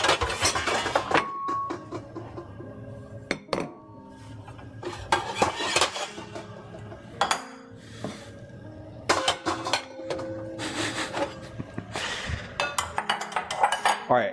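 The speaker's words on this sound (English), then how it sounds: "you can hear all those pots banging around now" Metal pots, pans and cutlery clank and clatter while someone cooks in a home kitchen, with irregular loud bangs and clinks close by and brief gaps between them.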